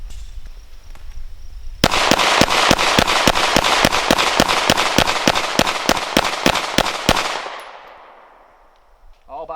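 Rapid string of about twenty loud 9mm shots from a Springfield Armory XDM pistol fired at a target, evenly spaced and close, then a fading echo and quiet.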